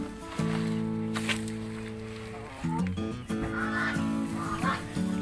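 A brooding duck sitting on eggs in a backyard poultry pen gives honking calls, nasal bursts with steady tonal background hum, near and fairly loud.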